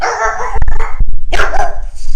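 A dog barks several times in sharp, loud bursts close by, with short pauses between the barks.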